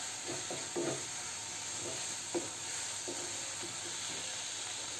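Masala cooking in a pan for rajma, stirred now and then, with a faint steady sizzle and soft scraping taps against a constant background hiss.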